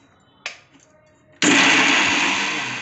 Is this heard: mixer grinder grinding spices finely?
yes